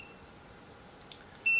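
A remote-controlled 12-inch foldable oscillating standing fan gives a short electronic beep as it powers on, a single clear tone near the end after a quiet stretch with faint clicks.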